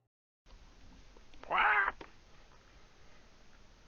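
A person imitates a cat with one short, loud meowing yowl that lasts about half a second amid a quiet indoor background during a tabletop game session.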